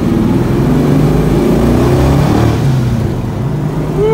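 A 1969 Dodge Super Bee muscle car pulls away with a loud, close, low V8 rumble that rises and falls as the engine revs steadily, easing slightly toward the end.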